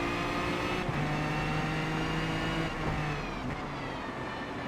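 A race car engine in Gran Turismo 7 holds a loud, steady droning tone, rising and shifting pitch as it revs, continuous throughout with no talk.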